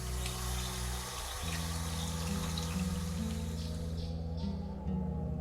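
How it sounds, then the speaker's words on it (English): Water from a valve in a video game well flows steadily down a drain, a constant splashing trickle over a low humming drone that shifts pitch partway through. "All the water is flowing through the drain."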